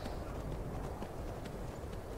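A horse's hooves clip-clop steadily at a quick gait in the video game Skyrim, a dense, continuous patter heard alone without talk.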